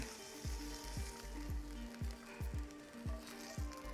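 Tofu frying in a pan for pad thai, with a steady sizzle underneath a run of regular low thumps or stirring knocks about every half second, heard close up with no talking.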